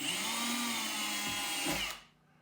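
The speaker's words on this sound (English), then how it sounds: "So I'm going to create these 1/8 inch holes in the corners." A Dremel rotary tool drills 1/8 inch holes into the corners of an acoustic guitar body, a steady high whine lasting about two seconds before it cuts off abruptly.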